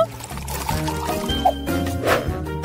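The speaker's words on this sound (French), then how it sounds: "Versons le lait dans le pot." Milk being poured into a nearly empty Nutella jar, a steady liquid pour with trickling and glugging, heard over background music.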